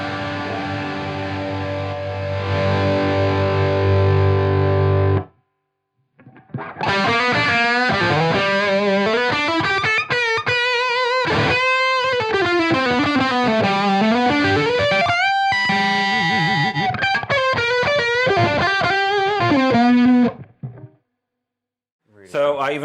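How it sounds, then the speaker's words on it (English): Guitar amp tone played through a Universal Audio Ox Stomp and captured by a ribbon mic alone, heard as sustained distorted chords and melodic bends, loud and continuous with brief gaps. "I'm going to bring it down so we hear just the ribbon at this point"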